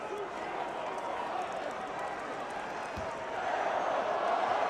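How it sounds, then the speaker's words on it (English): A basketball arena crowd chants a serenade for Gerald Wallace during an Orlando Magic versus Portland Trail Blazers game, a dense roar that swells slightly louder toward the end. "Crowd starts the Gerald Wallace serenade again."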